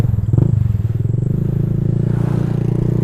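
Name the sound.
Honda Vario 150 scooter with Black Devil exhaust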